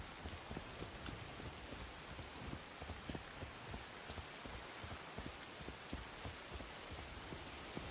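Rain in the video game Assassin's Creed Shadows, falling under a sunny sky: a dense, even hiss of raindrops with scattered sharper drips, steady and fairly quiet throughout.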